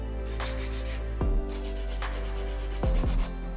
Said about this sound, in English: This is the 100-100 grit filer.